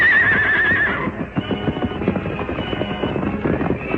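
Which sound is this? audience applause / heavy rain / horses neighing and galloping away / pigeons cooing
horses neighing and galloping away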